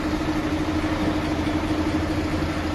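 A Mercedes-Benz engine idles with a fault noise from cylinder six, giving a steady, even running hum that continues unbroken at close range without any voices.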